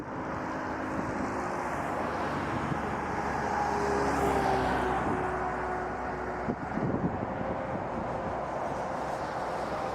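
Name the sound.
Icelandair Boeing 757-300 airliner taxiing at Toronto Pearson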